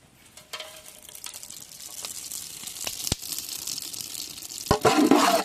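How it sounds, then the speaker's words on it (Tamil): Cinnamon and other whole spices drop into hot oil in a village cooking pot, raising a soft sizzle that swells as they fry, with a few clinks and stirring sounds. "எண்ணெய் நல்லா இப்போ காஞ்சிருச்சு, நம்ம பட்டை வகை எல்லாத்தையும் போட்டுக்கிறோம்."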